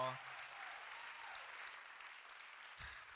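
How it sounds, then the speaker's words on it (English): A room full of audience members claps steadily at a panel event on wellness, a soft, even wash of applause with a brief voice at the start and a low murmur near the end. "So, one more round of applause."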